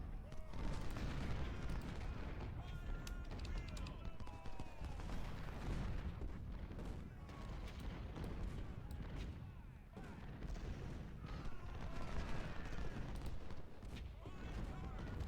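Booming 24-pounder artillery volleys from a Civil War battle at Spotsylvania's Mule Shoe in Ultimate General Civil War, dense and continuous with layered distant cannon and musketry rumbling throughout, under a steady battlefield din.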